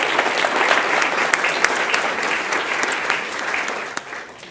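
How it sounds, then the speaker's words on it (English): An audience at a school district governing board meeting gives a big round of applause, dense steady clapping from many hands held for several seconds and fading slightly at the end. "So a big round of applause to Mr. Mike Sievertson"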